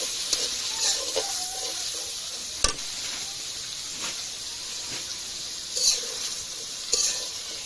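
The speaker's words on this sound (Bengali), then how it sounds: "পেঁয়াজটা একটু ভালো করে নেড়ে নেব" Ground onion paste frying in a pan while being stirred: a soft continuous sizzle with occasional sharp spatula scrapes and taps against the pan.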